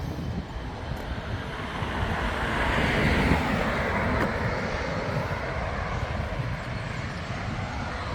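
Airplanes taxiing at Grantley Adams International Airport in Barbados: a loud, continuous jet engine roar that swells slightly near the middle and holds steady throughout, with no talking.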